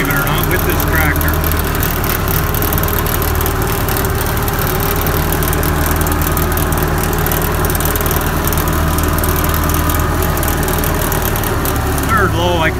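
A tractor engine runs steadily with a low, continuous rumble, close by and unchanging.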